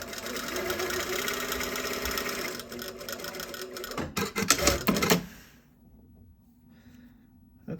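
A sewing machine stitches a cathedral placket in a steady whirring run, then stutters through a few slower stitches and stops, leaving quiet.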